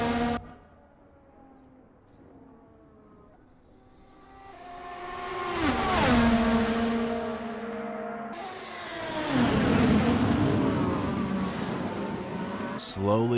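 Race cars lapping at Suzuka, engines whining up through the gears as cars approach and sweep past one after another, pitch rising then dropping with each loud pass.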